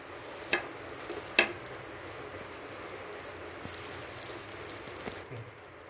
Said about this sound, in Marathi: त्यामध्ये आपण पाव भाजून घेऊया।